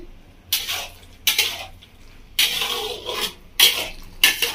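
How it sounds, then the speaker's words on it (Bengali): Salted bottle gourd being stir-fried in a pan, a spatula scraping and rasping against the metal in five separate bursts with brief quiet gaps between them. "লবণটা দিয়ে লাউটাকে আরো 2 মিনিট মতো ভালো করে কষিয়ে নেব"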